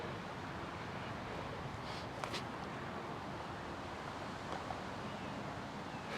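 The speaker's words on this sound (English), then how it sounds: "today the wind is really tough" Wind blowing across an open disc golf course in Texas, a constant broadband rush buffeting the microphone, fairly faint, with a couple of brief knocks and no talk.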